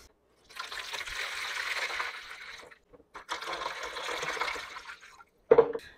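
Distilled water is poured from a container into the reservoir of an iDOO 12-pod hydroponic system. Two close, gurgling splashing pours are separated by a short pause, with a brief clunk or splash at the end and no voices.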